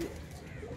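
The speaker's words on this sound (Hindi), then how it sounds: "अब ज़रा कबूतरों को बाहर खोलते हैं" Domestic pigeons let out from their coop give a soft, low coo, a short throaty call heard close by over a quiet background.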